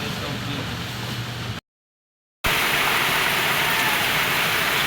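Heavy rain pouring down, a dense broadband hiss that drops out briefly then returns even louder and close, steady and unbroken.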